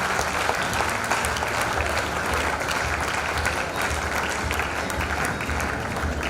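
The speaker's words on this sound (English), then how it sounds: "A round of applause to all the children." An audience at a special school's silver jubilee celebration applauds the children, steady dense clapping filling the hall at close range without pause.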